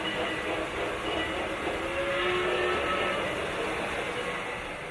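A model log train runs on Gargraves flexible track with a steady, close rumble and rolling hum that holds evenly throughout.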